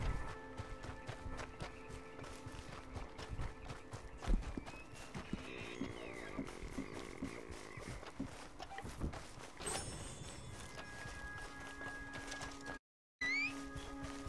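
Horse hooves in Red Dead Online, a steady quick clip-clop of a running horse that carries on through the whole stretch, at moderate loudness with faint game ambience underneath.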